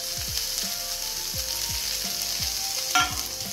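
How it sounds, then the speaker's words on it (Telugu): Onions, tomatoes and curry leaves fry in a pan under a constant hiss, with a repeating rhythmic mechanical clicking throughout and a brief utensil clatter near the end. "ఇప్పుడు ఒక 5 మినిట్స్ దీన్ని వేయించుకుందాం."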